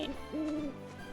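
In the video game Final Fantasy VII Rebirth, a bird gives a single clear owl-like hoot, close and moderately loud over a quiet background.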